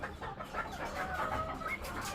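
Golden pheasants kept in a home enclosure call with soft clucking and chattering, a continuous low flurry of fowl sounds at moderate distance with no talk.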